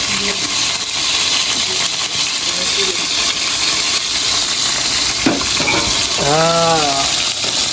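Phayao-style fermented fish (pla som) frying in oil, giving a steady crackling sizzle with scattered pops and spatters throughout, while a voice briefly cuts in near the end.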